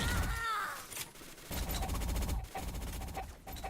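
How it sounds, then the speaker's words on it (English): Gunfire from a first-person multiplayer shooter match, with rapid overlapping bursts and shots running throughout, fairly loud and dense, with chatter and music faintly beneath. "Where's that fire coming from? I hear it."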